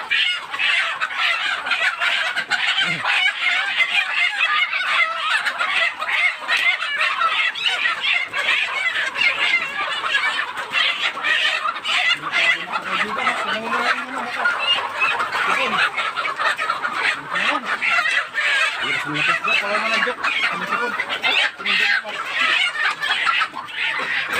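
Chickens cluck and chatter continuously in a busy flock during vaccination, with bird noise filling the background and some voices mixed in.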